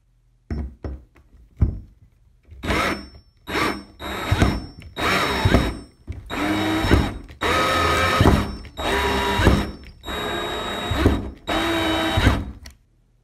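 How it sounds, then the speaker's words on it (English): A power drill whirs in repeated short bursts, pausing between each, with a few knocks and clicks at the start as a screw is driven in to mount a robe and towel hook. "I'm going to screw this in almost all the way"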